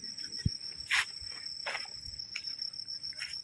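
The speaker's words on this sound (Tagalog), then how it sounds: "Walang ingay. Kuliglig lang." Crickets chirp in a constant high, shrill drone on a cold night at Camp Ragsak campsite in Baguio, with a few faint rustles and soft taps nearby.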